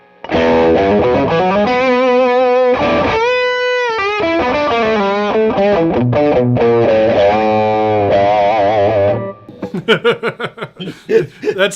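Heavily overdriven electric guitar through stacked overdrive pedals, thick distorted chords and sustained notes played loud and up close, ending in a few choppy, stuttering bursts.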